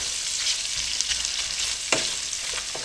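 Sausages fry in a pan with a steady, close sizzle and a couple of brief scraping knocks as they are moved around.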